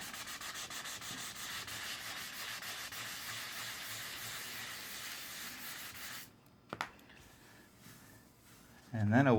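Sealer primer on a fiberglass tonneau cover being hand sanded with 600 grit sandpaper, a steady rhythmic rubbing hiss that stops partway, followed by a brief knock and then a voice at the end.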